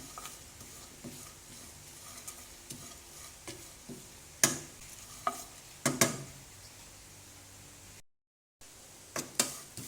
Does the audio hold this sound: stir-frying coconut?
yes